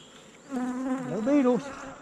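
Honey bees near a hive make a close, brief buzz that swells and wavers in pitch as one flies past, against a quiet outdoor background.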